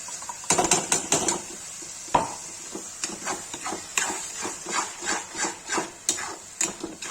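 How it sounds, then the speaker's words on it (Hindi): Tomatoes going into frying masala in a pan for lauki kofta, heard as a string of clattering knocks and scrapes of utensil against pan, spaced irregularly and fairly close, with no talk. "अब इसे टमाटर डाल देंगे।"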